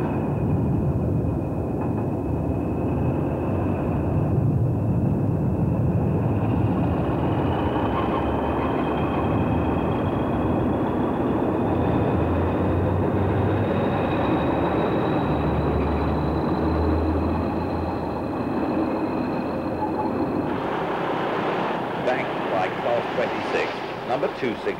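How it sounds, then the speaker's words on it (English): A single British Rail Class 20 diesel locomotive hauls an engineer's train north of Lockerbie, its loud, steady engine drone running throughout with a slowly rising whine, close and continuous. "Another single Class 20 on an engineer's train north of Lockerbie."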